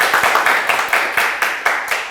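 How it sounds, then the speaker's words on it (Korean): A small audience claps along in a classroom lecture setting, sharp broadband claps landing in about nine loose bursts, moderately loud and fairly close, with no talking over them. "박수 한번 쳐주시고"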